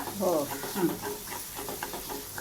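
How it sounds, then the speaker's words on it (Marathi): Masala with salt, asafoetida and turmeric sautéed in hot tempering oil, a soft hiss and stirring scrape running under brief speech close by. "आता हा मसाला चांगला परतून घ्यायचा"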